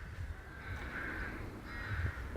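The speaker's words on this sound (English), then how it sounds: "there's a murder of crows cawing away in the trees there" A group of crows caws in trees on a breezy hillside, two drawn-out harsh calls a second apart over steady wind rumble, faint and distant.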